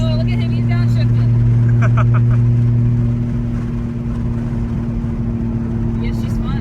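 Loud, steady drone of a Nissan 370Z with a 2JZ engine swap and turbo, heard from inside during a ride-along as the driver downshifts. The engine hum holds constant, with brief whistling turbo-like tones and people talking over it.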